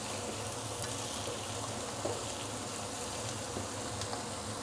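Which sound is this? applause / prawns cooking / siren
prawns cooking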